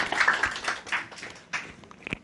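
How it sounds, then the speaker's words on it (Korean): Audience at a Korean book-launch talk on art criticism claps for an introduced former magazine editor; a brief burst of applause that fades, with scattered claps toward the end. "박수로."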